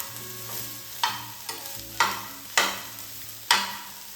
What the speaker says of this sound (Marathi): मिक्स करून घेऊया. फ्राय करून घ्यायचं आहे.